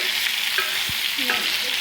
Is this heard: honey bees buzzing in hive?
no